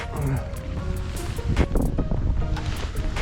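Wind gusting over open water while walleye fishing, a broad rushing roar buffeting the microphone, with lapping water, under someone talking.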